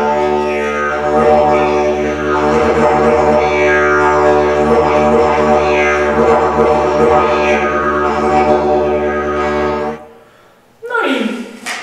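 A wooden folk wind instrument sounded by buzzing the lips like a snorting horse gives a loud, continuous, rough droning buzz for about ten seconds, then cuts off, followed by a brief rising vocal-like blast.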